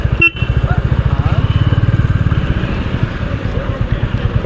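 A motorcycle rolls slowly toward a parking spot, its engine putting out a steady, rapid close-up thumping pulse with a brief jolt near the start.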